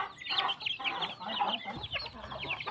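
Several chickens cluck in a rural farmyard, short overlapping calls repeating close by with steady background noise and no talk.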